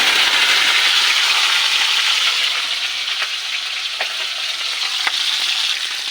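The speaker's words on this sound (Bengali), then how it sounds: "এবার ফুলকপিটাকে ভেজে নেব।" Cauliflower frying in hot oil for khichuri, a loud, steady, close sizzle that runs throughout with a few faint stirring clinks.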